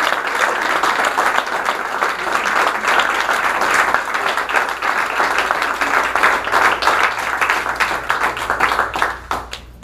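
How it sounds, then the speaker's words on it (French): An audience at an evening recognition event claps warmly for about ten seconds, with dense, steady applause from many hands that tapers off at the end. "j'aimerais vous offrir et que nous offrions tous une bonne main d'applaudissement"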